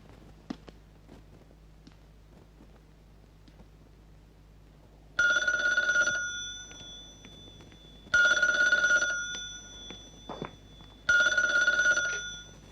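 Three bursts of an old-style telephone bell ringing indoors, each about a second long with pauses between, loud and clear over a quiet room.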